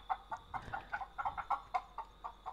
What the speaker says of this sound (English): Look at my chickens.